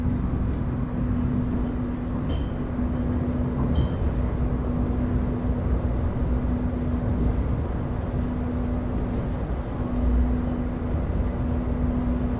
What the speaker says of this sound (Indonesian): Saat ini kereta api Argo Wilis yang saya naiki